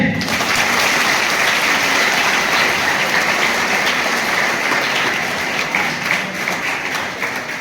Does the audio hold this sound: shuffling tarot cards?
no